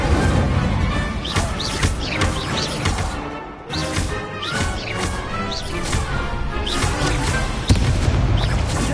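Hogwarts Legacy spell combat on PS5 with Incendio fire blasts: repeated loud booms, crashes and whooshing bursts come in quick succession, dense and close throughout.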